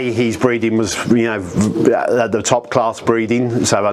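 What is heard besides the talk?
No everyday noise stands out behind the speech.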